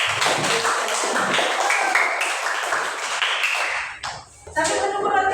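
A classroom group claps together, a dense, busy patter of many hands that thins out and breaks near the end before a few scattered claps resume.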